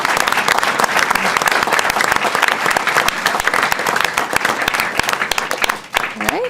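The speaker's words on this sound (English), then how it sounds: "So let's have a big round of applause for all our winners." A roomful of people at a school district board meeting and reflections awards ceremony claps for the award winners, loud and steady for several seconds before tapering near the end, with a voice briefly heard.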